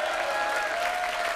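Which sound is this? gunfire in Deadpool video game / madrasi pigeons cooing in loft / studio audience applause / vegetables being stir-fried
studio audience applause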